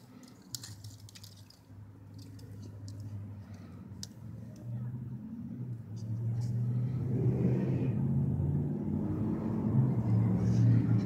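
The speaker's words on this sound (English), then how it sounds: "Sorry about the noise, I live right next to a big road." Steady low rumble of traffic from a big road nearby, swelling louder over the second half as vehicles pass, with faint crackling of a small wet-wood fire and scattered light ticks on top.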